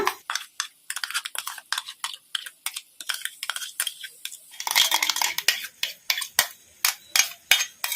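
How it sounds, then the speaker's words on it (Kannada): Thick coconut and cashew paste being added to a kadai while making soya chunks masala, heard as a rapid run of sharp, close metallic scrapes and taps of a spoon against the pan, more intense in the second half, with no talking. "ಹಸೆ ಕೊಬ್ಬರಿ ಗೋಡಂಬಿ ಪೇಸ್ಟ್ ಈಗ ಇದನ್ನ ಕಡಾಯಿಗೆ ಹಾಕೊಂಡ್ಬಿಡೋಣ"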